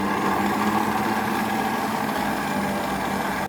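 An electric mixer whirs steadily through watermelon cake batter, loud and close, with an even motor drone that holds without a break until it cuts off at the end.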